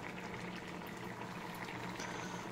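A pot of soybean curry bubbling on the heat gives a dense, continuous simmering hiss with soft popping, steady and close for a few seconds with no talk.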